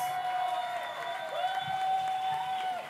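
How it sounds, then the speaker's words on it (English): A crowd at a kiki ball dance battle in Burlada claps and cheers in a continuous wash of applause, with a sustained tone running underneath. "Give her a round of applause."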